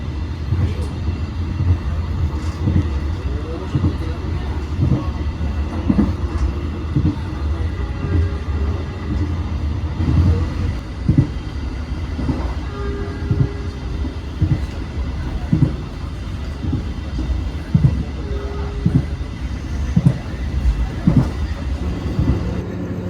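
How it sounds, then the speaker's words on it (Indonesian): A Commuterline Supas commuter train arrives at Pasuruan station, a steady loud rumble with repeated rhythmic clacks of wheels over rail joints as the carriages roll in. "Kereta api komuter lain Supas tiba di stasiun Pasuruan sebagai pemberhentian pertama dari arah Probolinggo."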